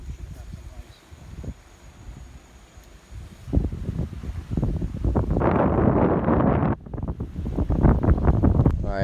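Strong wind buffets the microphone at a low-tide shore during a snook fishing trip, with loud, uneven gusts roaring and rumbling. The wind swells into heavy bursts near the middle and end.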